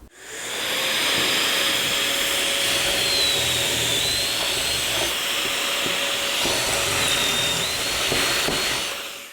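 A drill bores pocket holes through an Armor auto-adjust pocket hole jig while shop storage cabinets are built, giving a steady, loud, hissing whir that runs for several seconds up close, with no talking.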